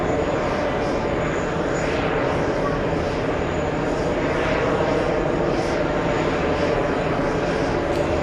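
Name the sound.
Airbus A330neo airliner arriving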